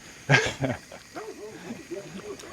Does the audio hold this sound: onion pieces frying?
no